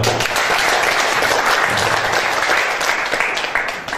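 An audience at a cooperative gathering breaks into sustained, dense applause, loud and continuous throughout before tapering slightly at the end.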